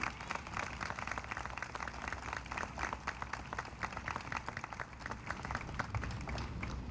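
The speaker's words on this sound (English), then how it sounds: "So will you join me in giving a round of applause to our first responders who are here today?" A crowd at a 9/11 remembrance and day of service ceremony applauds first responders, a long, even round of many hands clapping at a moderate distance, with no talking over it.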